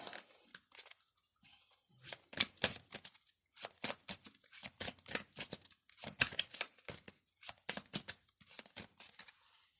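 Tarot cards being shuffled and drawn by hand, a string of soft papery riffles, slides and flicks coming in irregular bursts with short pauses, close and quiet, no talk.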